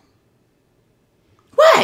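A short, breathy voiced burst: a reader's voice imitating a yawn for the pigeon in a children's picture book read aloud, coming abruptly at the very end after near silence.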